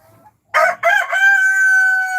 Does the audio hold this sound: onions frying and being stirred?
no